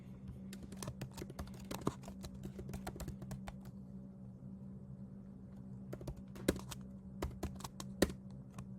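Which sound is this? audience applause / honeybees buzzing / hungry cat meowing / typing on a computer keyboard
typing on a computer keyboard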